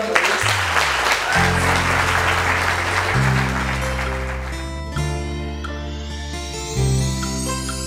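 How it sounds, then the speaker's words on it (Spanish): At a wedding, guests applaud the children, a dense broadband clapping that gives way to music with sustained melodic tones and steady low notes. "Den un aplauso de nuevo a los niños."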